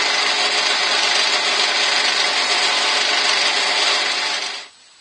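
Friction against a turning workpiece on a wood lathe run slowly, a loud, steady broadband rasping hiss that holds evenly for about four and a half seconds and then cuts off abruptly as the contact stops.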